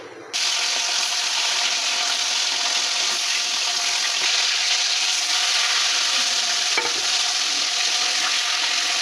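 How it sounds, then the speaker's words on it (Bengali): Bele fish rubbed with salt, chili powder and turmeric frying in hot oil, a loud continuous sizzle that starts abruptly and holds steady with occasional stirring scrapes. "লবণ, মরিচের গুঁড়া আর হলুদ দিয়ে মেখে এখন এগুলো ভাজবো।"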